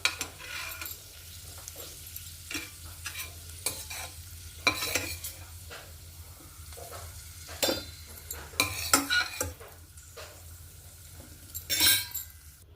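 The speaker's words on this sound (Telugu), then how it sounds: "ఈ నెయ్యిలోనే ఒక కప్పు సేమియా ఫ్రై చేసుకున్నాం" Vermicelli (semiya) frying and being stirred in ghee in a pan, a soft steady sizzle broken by repeated scraping and clinking strokes of a spoon against the metal, close and fairly quiet, with no one talking.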